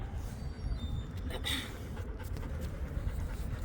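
A puppy pants softly and steadily at close range, with a brief whimper-like sound partway through and no talking.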